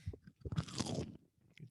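A loud, crisp crunch as someone bites into a Loblaws chicken tender from a $6 combo, its cornstarch-fried coating crackling for about half a second, with softer chewing sounds before and after.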